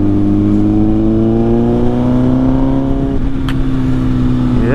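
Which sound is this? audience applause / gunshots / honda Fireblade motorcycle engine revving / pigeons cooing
honda Fireblade motorcycle engine revving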